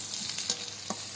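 Bay leaves, cinnamon, cardamom and cloves fry in hot oil for beef curry with a bright, steady sizzle. Two quick scrapes and taps of a stirring spoon land close against the pan.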